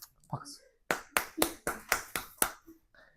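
Students in a classroom clap in unison, about six sharp, evenly spaced claps close by, with brief murmuring voices just before and after.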